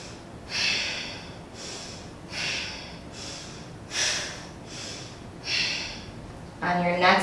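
Deep, rhythmic breathing during a Kundalini and Yin yoga class, about six forceful breaths at even intervals, close and clear, followed by a brief voice at the end.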